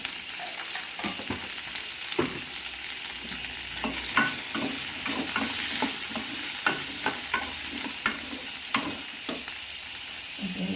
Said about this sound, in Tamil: தக்காளி நல்லா ஸ்லோவை வச்சு நல்லா வதக்க வேண்டியது